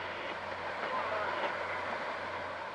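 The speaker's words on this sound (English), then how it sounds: "this is a nice shot of the train running along the embankment of the road of the Puget Sound" A train rolls along an embankment beside a road on Puget Sound, a steady broad rumble and rushing noise heard from moderate distance with no clear breaks.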